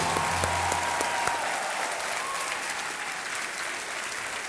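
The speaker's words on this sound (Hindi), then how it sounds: "तालियों के साथ इनका स्वागत किया जाए।" Studio audience applause on a quiz show set welcoming a contestant from Lucknow, a thick continuous clatter of many hands held at an even level throughout, a low hum briefly underneath at the start.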